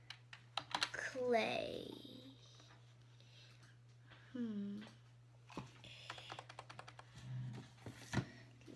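Keyboard typing while searching for blocks in a Minecraft city build, heard as bursts of clicks scattered among a talking voice, with a steady low hum beneath.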